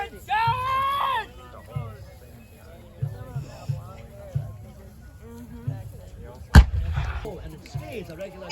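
A single loud, booming cannon shot goes off at a Civil War reenactment, sharp and close. Someone talks excitedly before and after it, and a tonal whine is heard near the start.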